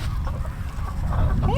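Chickens cluck in a garden setting, a steady low flock chatter running close and continuous throughout, with a brief higher call rising near the end.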